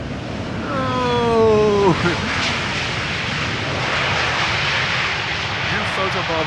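An EasyJet Airbus A320neo jet airliner arriving at Schiphol after a flight from Gatwick, its engine roar loud and steady throughout, with a person exclaiming briefly near the start.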